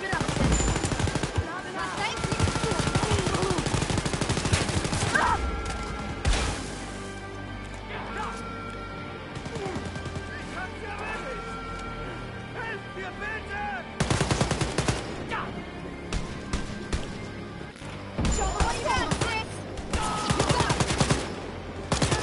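Gunfire in the shooter Wolfenstein Youngblood, with rapid automatic bursts in several loud stretches separated by quieter gaps, mixed with game sounds and voices.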